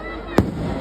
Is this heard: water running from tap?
no